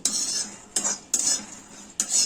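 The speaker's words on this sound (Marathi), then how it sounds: "शेंगदाणे असे भाजून घ्यायचे आहेत त्याच्यामध्ये मी वेळची टाकली आहे" Peanuts being dry-roasted in a pan for sesame laddu, with repeated scraping, stirring strokes of a metal spatula against the pan in short bursts, close and clear with no talking.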